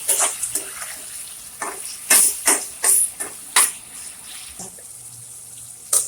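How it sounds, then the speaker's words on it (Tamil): Chicken curry base with tomato and green chilli frying in a pan, giving loud bursts of hissing sizzle that swell and fade in irregular pulses, close up with no voice over it. "சீக்கிரம் வதங்கும், நல்லா ஃப்ரை ஆகும்."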